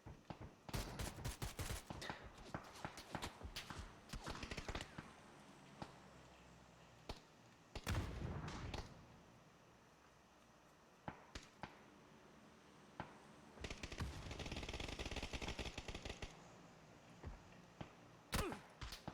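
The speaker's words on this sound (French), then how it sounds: "Faut recharger l'arme, voyons, avant d'essayer de tirer." Gunfire in the video game PUBG crackles in rapid bursts and single shots, sharp and loud against a quiet background, with gaps between volleys and a longer burst near the end.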